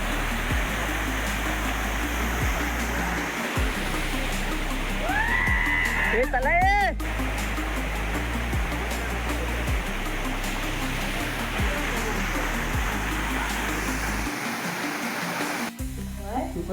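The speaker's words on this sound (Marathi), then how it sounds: "खूप मोठा असा आहे धबधबा." Steady roaring rush of a large waterfall fills the whole clip, with people talking and a shout over the constant, loud water noise.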